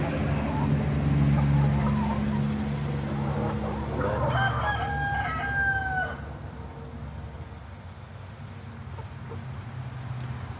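Backyard chickens peck and scratch at feed spread under their roost, giving low clucks and a rooster crow amid farmyard background noise, while a person talks nearby.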